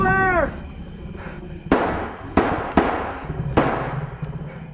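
Four or five loud sharp cartoon gunshots crack in irregular succession after a brief yelping voice at the start, each a sudden bang with a short decaying tail.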